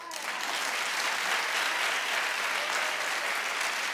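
A studio audience at a TV talk show bursts into applause, a thick, even roar of many hands clapping at once, sustained and steady throughout.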